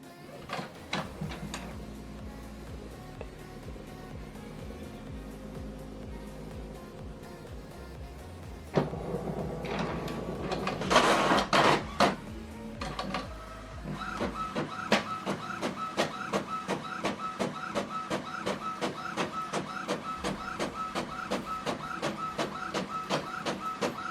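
An Epson WF-3820 printer copying a double-sided document whirs and clicks through its feed, then settles into a steady rhythmic run of rapid mechanical ticks and chugs as pages pass through.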